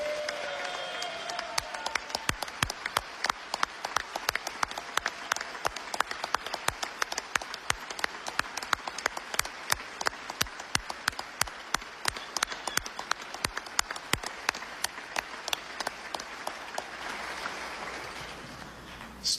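Applause from a crowd greeting Missouri's First Lady, a dense, sustained clatter of many hands clapping at moderate distance for nearly twenty seconds, thinning out toward the end.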